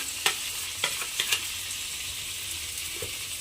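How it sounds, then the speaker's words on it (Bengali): Grated carrots stirred into hot ghee in a pan for carrot halwa, a soft steady sizzle with a few sharp spoon scrapes and clinks against the metal near the start, then quieter frying. "ঘিয়ের মধ্যে গাজরটা দিয়ে আবারও খুব ভালোভাবে মিশিয়ে নিয়েছি"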